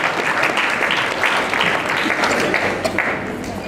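Steady, dense applause from an audience at a graduation ceremony for a hospitality training programme, loud and sustained throughout with no pauses.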